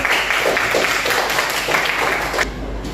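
A classroom of eighth-grade students at an Indonesian junior high claps for a group presentation, a dense patter of applause lasting a few seconds before breaking off, with voices mixed in.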